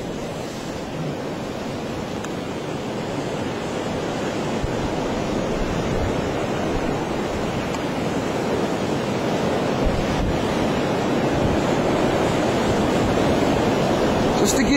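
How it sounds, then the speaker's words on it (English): Howling winter wind across an open power line area in snow: a continuous loud roar buffeting the microphone, steady throughout with no clear pauses. "And you can hear the wind."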